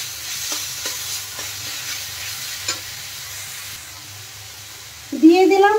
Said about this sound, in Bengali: দেখেন মশলার সাথে কিন্তু মোচা আমি ভালোভাবে ভেজে নিয়েছি।